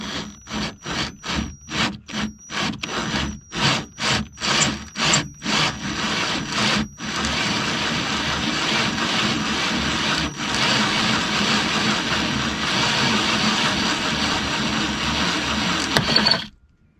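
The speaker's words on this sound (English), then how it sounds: "drill it until the head of the screw comes off" A drill bites into a screw head on a 2008 Honda CR-V door lock in short rhythmic pulses, then runs in one steady, grinding whir for several seconds until the screw head comes off.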